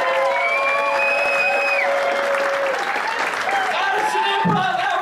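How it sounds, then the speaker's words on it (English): A comedy club audience applauds and cheers loudly and steadily as comedian Danzy takes the stage, a dense continuous wash of clapping with whistles and shouts mixed in. "Give him a next applause for Danzy."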